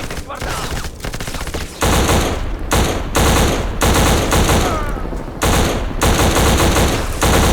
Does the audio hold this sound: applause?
no